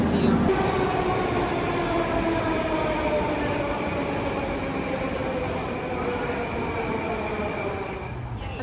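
A Moscow metro train runs loud and steady, a continuous rumble of wheels on rails with a whining tone running through it, fading slightly at the very end.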